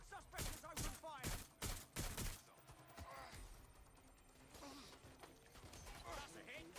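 Video game gunfire from Watch Dogs: Legion: a rapid cluster of loud gunshot bursts in the first two seconds, then quieter mechanical rattles and clanks beneath a lingering game soundscape.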